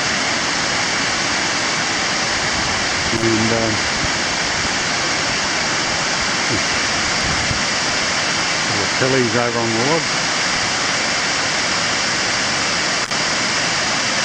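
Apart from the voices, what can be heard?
river water flowing over a weir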